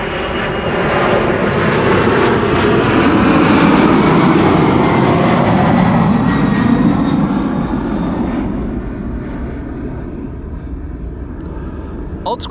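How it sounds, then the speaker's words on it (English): Boeing 767-300 from the 1990s on a United flight to Houston taking off at Amsterdam Schiphol Airport, a loud sustained jet engine roar swelling as it passes, then slowly fading into a distant rumble. "Old school sounds from a 767-300 hailing from the 1990s."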